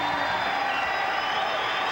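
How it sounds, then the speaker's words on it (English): A crowd of bowling fans at the 1997 PBA Flagship Open stands cheering and applauding the new champion, a steady, dense roar of clapping and voices filling the hall without a break. "Standing and cheering, all these fans"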